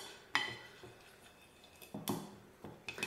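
Faint, scattered clinks and scrapes of a chopstick mixing oil and paprika in a small bowl for paprika chicken, a few sharp taps spread out with soft stirring between them.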